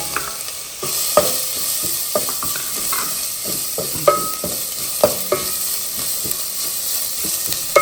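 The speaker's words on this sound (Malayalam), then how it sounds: "വഴറ്റിയതിന് ശേഷം ഇതിലേക്ക് നമ്മുടെ രസക്കൂട്ട് ഇടുക" Rasam spice paste stirred and sautéed in a hot pan for a homestyle rasam: a steady sizzle of frying runs throughout, broken by repeated scrapes and knocks of the spoon against the pan, close and fairly loud with no talking.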